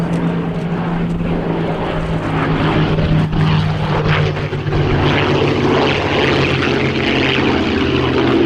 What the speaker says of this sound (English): running in B-17G Flying Fortress Sally B and the Mustang Jersey Jerk